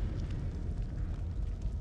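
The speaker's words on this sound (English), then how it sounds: "Oh my god, the earthquake again." An earthquake in the House of Ashes video game sends out a deep, continuous low rumble, fairly faint and steady throughout.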